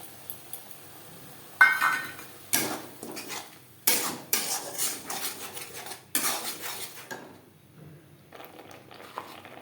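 Ginger being stirred in a metal pan while cooking an egg chilli dish: a series of sharp clinks and scrapes of a utensil against the pan come in uneven bursts, close and fairly loud, with quiet pauses between and no talking.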